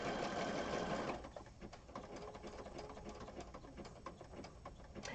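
A sewing machine stitching thick fabric for a junk journal cover, a loud, steady mechanical whir that settles into a fast, even rattle of the needle as it runs on without pause.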